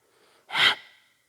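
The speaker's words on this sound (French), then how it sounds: "Bhastrika, faire circuler l'énergie." A single sharp, forceful breath from a yoga Bhastrika (breath of fire) exercise in a beginner dynamic Ashtanga class: one short, loud, airy burst with a softer tail, set against near silence.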